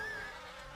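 A bee buzzes around a steam engine's hot smoke box in a story, giving a steady, fairly faint droning hum that holds for under a second with no talking.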